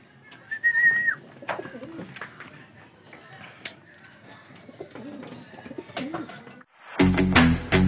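Pigeons coo softly in a Filipino keeper's loft as the birds are gathered to be boxed, with repeated low calls and a brief whistle, then a sudden loud burst of noise near the end.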